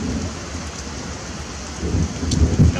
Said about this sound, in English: without that rain, I mean, that rain just boogering it all up